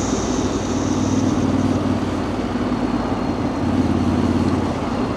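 A Yamaha Tenere 700 motorcycle engine fitted with an aftermarket exhaust runs steadily and fairly loud, a continuous low throbbing drone with no break and no voices.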